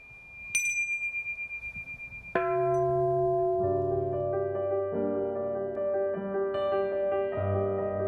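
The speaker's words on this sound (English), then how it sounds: "rang a bell signaling to the guests and others that it was time to light their lanterns" A ceremonial bell rung at a lantern floating ceremony in Hawaii: one sharp strike rings out and fades, then a deep, sustained bell tone swells and hangs alone, its overtones lingering for several seconds.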